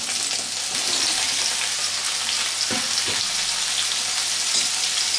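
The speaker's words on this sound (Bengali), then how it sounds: "এবার সেই তেলেই আমি সয়াবিনটাও ভেজে নেব।" Soybean chunks fry in hot oil with a steady, even sizzle and occasional soft stirring clicks, close and continuous without speech.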